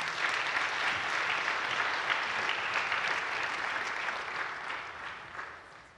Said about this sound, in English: Let's give these people a round of applause first